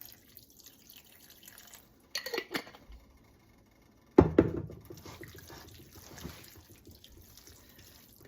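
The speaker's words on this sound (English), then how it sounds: "So here comes just a little more chicken stock." Chicken stock poured into a thick sauce for chicken hand pies, heard as two short bursts of liquid splashing and trickling, close and fairly quiet, with faint dripping between them and no talk.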